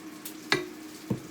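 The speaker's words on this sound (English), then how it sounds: "now to this, I'm gonna add 2 cups of beef broth" Beef broth is poured into a hot flour roux for onion and mushroom gravy, giving a soft steady sizzle broken by two brief splashing hits.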